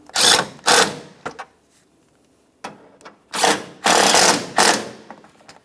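A power tool tightens the mounting bolts on the AC condenser cooling fan of a 2012-2015 Honda Civic 1.8L L4. It fires in several short, loud mechanical bursts with gaps between them, and the later bursts come closer together.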